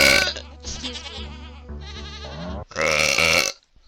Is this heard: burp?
yes